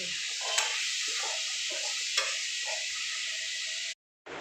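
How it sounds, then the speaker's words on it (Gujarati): Gram flour dry-roasting in a pan for a stuffed okra masala, a steady close sizzling hiss broken by soft scraping stirs and two sharp clinks, then cutting out abruptly near the end. "શેકાવા દેવાનું 2-3 મિનિટ મસ્ત તો શેકાઈ જાય તો મસાલો સારો બને।"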